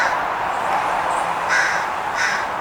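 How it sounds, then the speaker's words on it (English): A crow caws repeatedly, mobbing a dark morph red-tailed hawk perched in a sycamore tree; several harsh, fairly close calls come in a rough rhythm over steady outdoor background noise, with no talking. "There's a crow that's not happy with him being there."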